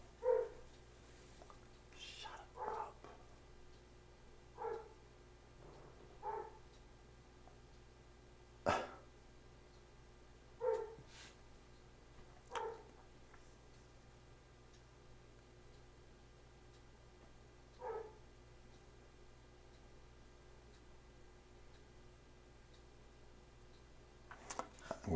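A dog barks in short, sharp bursts spread across the stretch, about eight or nine separate barks with quiet gaps between them, moderately close against a faint background hum.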